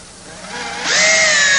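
A power drill driving screws into wooden easel legs to fix an artboard and chalkboard in place, its motor whining steadily before rising sharply in pitch and loudness as it spins up, with no voices.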